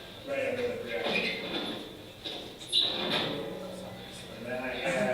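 A drawer slides open and shuts under a projection as a package of C4 is placed inside, giving muffled wooden scrapes and a bump, heard close beneath ongoing talk.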